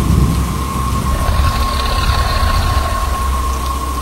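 Steady rain pours with a low rumbling undertone of a thunderstorm in progress, continuous and fairly loud, with a faint steady tone running through it.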